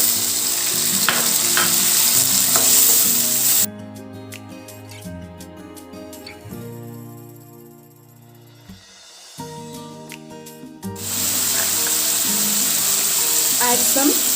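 Tomatoes are added to cooked onions in a pan for lady fish gravy, bringing a loud, dense sizzle that drops away to a quiet tonal lull midway and then surges back just as strongly.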